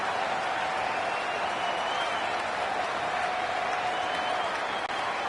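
Home crowd noise in a College Football 27 dynasty game at Alabama's stadium, a steady, dense roar of cheering and applause that holds at an even level throughout, with no talk on top.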